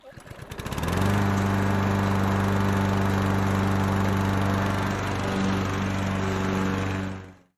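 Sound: Cobra 40 volt battery lawn scarifier running

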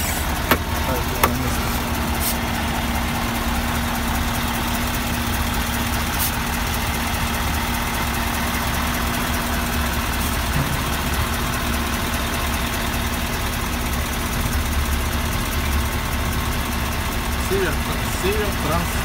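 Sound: Ural truck engine idling

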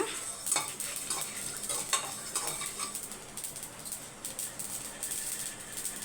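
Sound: spices frying and spluttering in oil in a pan

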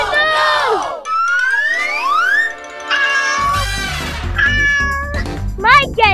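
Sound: cat meowing

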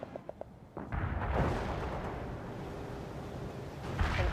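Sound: artillery and gunfire in World in Conflict video game

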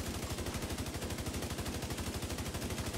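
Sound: shotgun firing in the video game The Division 2

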